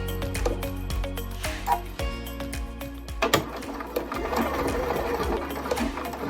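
A Bernina sewing machine stitches through a bulky fabric mask, its needle chattering in quick bursts with short pauses, then running steadily as it reverses and goes forward, close and clear.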